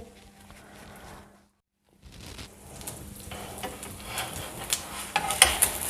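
Fried egg and cheese sandwich with chicken keema cooking in a pan on slow heat, a soft, steady sizzle that drops out briefly and then returns, growing brighter with small spatters and utensil clinks.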